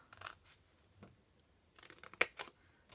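Scissors snipping straight across a sheet of paper held in landscape orientation for a Frozen-themed Disney photo frame craft, a few quiet, close crisp cuts with one sharper snap near the end.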